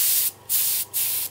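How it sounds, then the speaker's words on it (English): Compressed air from a quiet compressor with a water trap, used for spray painting a 1:32 scale Airfix Ford Escort Mk1 model kit, comes in three bursts of close, breathy hiss separated by short pauses. "So this is the compressor in use. As you can hear, it's very quiet."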